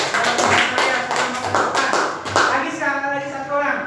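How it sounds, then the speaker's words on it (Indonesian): Classroom pupils clapping hands together, a fairly loud rhythmic group clap in bursts, with children's voices chattering and calling out over it. "Oke, tepuk tangan Pak Rosi"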